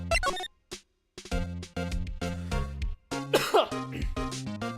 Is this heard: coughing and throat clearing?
yes